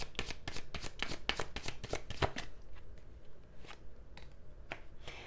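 Tarot cards being shuffled, a quick run of crisp riffling flicks followed by sparser single taps and slides as cards are drawn, close and clear.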